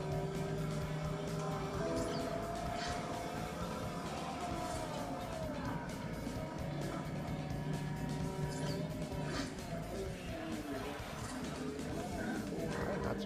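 A Pagani Huayra race car engine in the racing game Forza Horizon drones fairly quietly, its pitch sweeping up and down through corners, with a voice talking over it at times.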